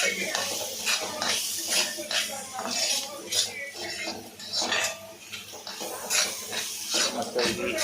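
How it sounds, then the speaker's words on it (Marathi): Kardi masala being stirred in a pan with a utensil, giving repeated scraping and clinking strokes over a faint sizzle, steady and close throughout. "त्यानंतर परत ढवळ ढवळ ढवळ ढवळ ढवळ ढवळ ढवळ ढवळ ढवळ"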